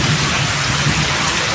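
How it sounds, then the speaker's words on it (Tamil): Heavy, steady rain pouring down in a dense, continuous hiss, close and loud. "இப்போ மழை பெய்யுதுடே."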